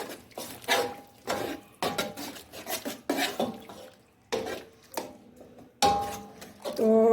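Biryani ingredients are stirred in a cooking pot with a spoon, making a series of rasping scrapes in uneven bursts, about eight strokes with short pauses between, close and fairly loud.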